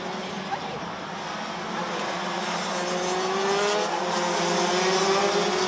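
DD2 racing karts take a corner at the Genk circuit, their engines droning steadily and building slightly in loudness, with a high whine over the top.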